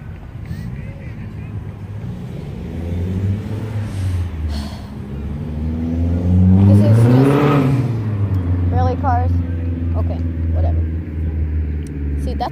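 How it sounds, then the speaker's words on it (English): Cars pass by outside, a close one swelling to a loud whoosh and receding, with fainter traffic before and after, while a person talks nearby. "I can't edit out the cars."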